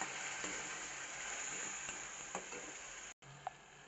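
Cumin, bay leaves, asafoetida and ground spices fry in oil in a wok, giving a steady close sizzle with a few light stirring scrapes and a brief break near the end, with no talking.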